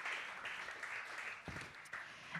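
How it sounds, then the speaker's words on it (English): At a weekly company breakfast meeting, a small audience applauds for a new marketing manager joining the team, producing soft, continuous clapping heard quietly at a distance for a couple of seconds. "she's not here, but deserves an applause"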